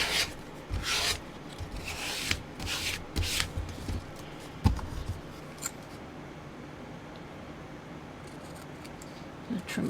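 Rubbing and pressing on a glued junk-mail envelope front, a soft rasping friction with scattered bursts and a few taps, close and fairly quiet, no talking.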